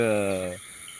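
Crickets at dusk in a rural Konkan village keep up a steady, thin, high trill throughout. A brief tonal hum sits under the trill in the first half, then only faint evening ambience remains.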